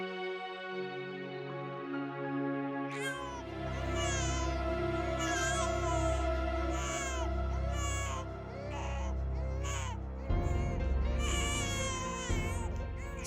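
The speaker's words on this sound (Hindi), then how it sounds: "बच्चे के रोने की आवाज कहाँ से आ रही है?" A baby crying on a television in a household room: repeated drawn-out infant wails that rise and fall, heard continuously over a low background.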